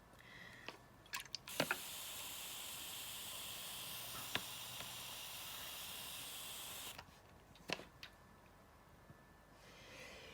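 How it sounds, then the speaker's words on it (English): A spray mister mists a tarantula enclosure in one long, steady, close hiss lasting several seconds, with a few quick squeezes and clicks before it and a softer spray afterward. "Let's give that a mist."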